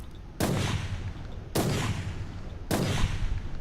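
Three heavy sniper rifle shots in the video game Warhammer 40k Inquisitor Martyr, each a sharp loud blast with a long rumbling tail, spaced about a second apart.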